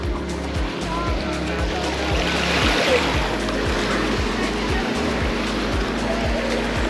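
Sea waves on a Phuket beach wash in and drag back over a stretch of small pebbles, a steady loud rushing wash with a low rumbling undertone throughout and no talk.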